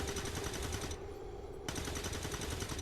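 Soldiers in XCOM 2 fire a rapid stream of automatic gunfire in an ambush, a dense rattling burst that briefly pauses, then resumes, moderately loud.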